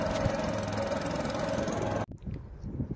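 A boat engine runs on a ride across the Ujani dam reservoir toward Palasnath temple. It drones loud and steady with a low rumble, then cuts out abruptly after two seconds, leaving quieter ambient noise.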